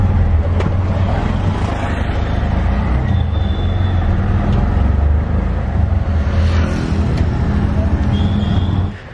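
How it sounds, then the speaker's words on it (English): Tuk-tuk ride through Agra, India on a cool morning, a continuous low engine rumble and road noise from inside the small vehicle, with faint passing traffic and an occasional horn in the background. "A short but cool tuk-tuk ride, surprisingly cool this morning."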